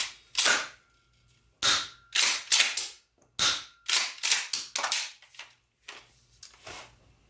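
Shotgun fitted with a folding, telescoping AR-style stock and quick-detach mounts, a series of about a dozen sharp cracks or clacks in irregular bursts, fairly close and loud, with short gaps between them and no talking.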